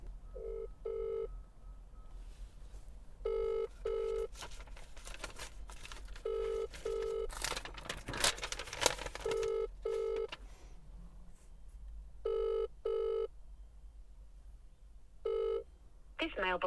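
A phone call is placed: bursts of touch-tone dialing beeps in short clusters, a ringback tone between them, and some rustling and faint background noise along the way.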